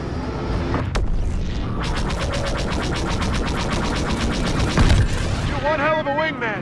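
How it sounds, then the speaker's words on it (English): Missile launches and explosions during a Star Wars Battlefront II space battle at D'Qar, rendered as a steady roar of rapid blasts with a heavy boom near the end, under continuous game noise and radio chatter. "Firing missile."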